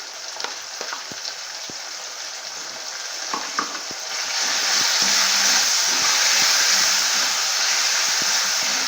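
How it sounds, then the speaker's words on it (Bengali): Ginger garlic paste frying with tomato and onion in a pan, a steady close sizzle with occasional stirring scrapes and taps that grows louder and hissier partway through as the paste hits the hot oil. "এবার দিয়ে দেবো আমি এক চামচ আদা রসুন পেস্ট"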